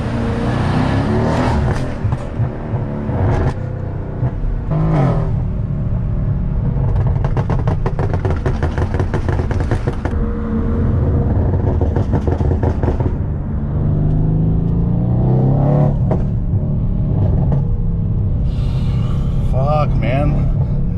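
Tuned Mercedes-AMG C63S idling on its own with the exhaust burbling and popping, heard from inside the cabin through an open sunroof, steady rumble with intermittent crackles while people talk over it.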